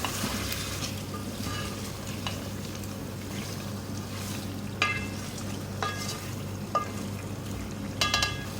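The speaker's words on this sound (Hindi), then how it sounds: "अब इसकी भुनाई करेंगे" Potatoes and beef for degi aloo gosht frying in a pot, a steady sizzle with sharp scraping clinks of a spoon stirring at intervals, close and with no talk.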